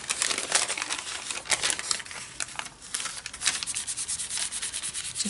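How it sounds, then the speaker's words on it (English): Deli paper is rubbed over a painted gel printing plate, giving a close, steady dry scratching and rustling with rhythmic strokes and light crinkles, no voices. "We're going to use just a piece of deli paper."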